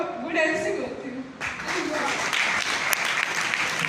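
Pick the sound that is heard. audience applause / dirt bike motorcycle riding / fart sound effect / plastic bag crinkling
audience applause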